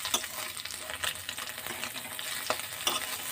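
Small mola fish lightly frying in a pan, a softer sizzle punctuated by several sharp scraping stirs or turns at irregular moments.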